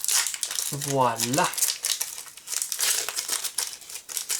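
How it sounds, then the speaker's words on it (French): Crinkly foil wrapper of a Pokémon card booster pack crackles and tears near the microphone in a steady, busy rustle, while a voice briefly says a word early on. "Alors j'arrive même plus à les ouvrir. À ouvrir le booster."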